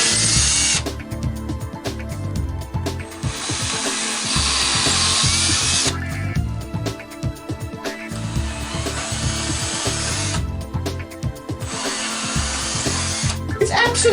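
Power drill boring through an interior wall in a home, a loud steady motor whine with harsh grinding bursts that come in waves across several passes, close up.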